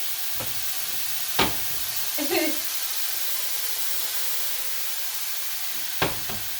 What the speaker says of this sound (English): see how this is cooking nice and fast and it's browning already?